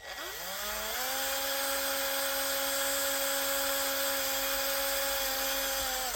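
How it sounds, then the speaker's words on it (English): A small power drill with a small bit spins up to a steady high whine, drilling a hole into the bottom of an angel ornament, running continuously, close by with no talking. "I want to drill a hole in the bottom of my angel here."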